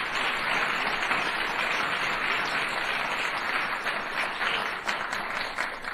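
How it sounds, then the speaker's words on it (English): Steady, dense applause from a crowd, sustained throughout at a fairly even level with no voices standing out. "Yes, you could applaud."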